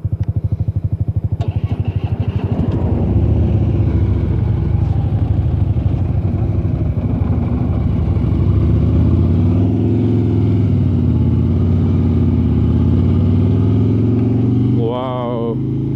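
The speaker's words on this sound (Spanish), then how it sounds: "una Harley, una hermosura de moto, una hermosura de sonido" A Harley-Davidson Road Glide Special engine idles and revs with a deep, throbbing rumble, loud and close, steady for most of the stretch before cutting off near the end.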